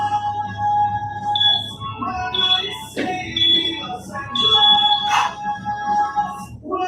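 Workout interval timer sounding a series of loud electronic beeps of varying pitch, close and clear with a short gap between groups, no talking.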